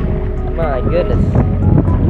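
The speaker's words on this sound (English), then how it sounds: "That wind is strong. Pushing me backwards." Strong wind rushing over a lake, heard from a small fishing boat, a steady loud roar buffeting the microphone with faint tonal whistles, close and continuous.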